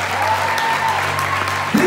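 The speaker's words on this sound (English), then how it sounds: "Give yourself a round of applause." An audience applauds steadily for a speaker at a motivational talk, a dense, even wash of clapping that holds throughout the short burst.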